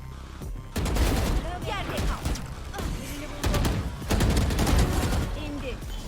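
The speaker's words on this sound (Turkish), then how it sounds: "Bunu da vurduk abi gel." Gunfire in a shooting video game with weapon skins: loud bursts of rapid shots come in clusters with short pauses, while players talk over the action.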